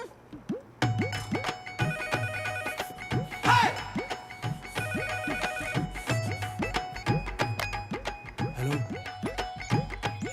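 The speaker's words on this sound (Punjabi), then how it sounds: "ਆ ਫੋਨ ਚੱਕੋ" A telephone rings repeatedly in a home, with a steady electronic ringtone pattern repeating through the clip, mixed with background music and sound effects.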